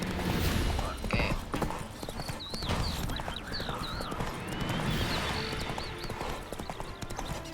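Horse hooves clip-clopping in The Witcher 3: Hearts of Stone, a steady rhythmic trot heard clearly over game music and ambience, with a voice talking throughout.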